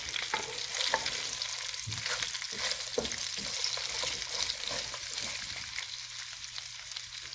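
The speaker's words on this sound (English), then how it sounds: "And as you can hear, it's starting to fizzle." Cabbage sizzles and crackles in a hot pan during a spicy Szechuan stir fry, a steady frying hiss with occasional pops and stirring scrapes, close up with no talking.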